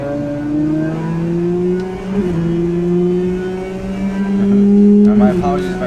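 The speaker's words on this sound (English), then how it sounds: "Wow, this car is really loud in the headphones." A car engine in an Xbox racing game revs loudly, its steady droning pitch climbing, dipping briefly and rising again, close and continuous.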